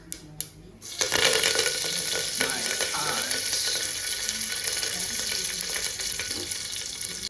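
Bhaji and saaru cook side by side on a home kitchen stove, a steady close hiss and sizzle that starts after a few clicks and runs on evenly, with faint voices in the background.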